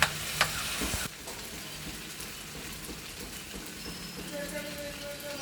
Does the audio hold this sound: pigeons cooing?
no